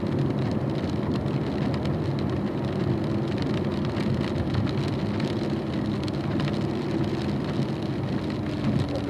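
Rain falls steadily during a drive on a racetrack at a performance driving school, a dense even patter and spray blended with the muffled drone of a car, continuous and unchanging throughout with no voices.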